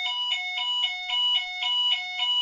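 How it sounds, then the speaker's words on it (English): A fire alarm sounds indoors in steady rapid pulses, a sharp electronic tone beeping about three times per second at moderate loudness with nothing else heard. "That is a fire alarm."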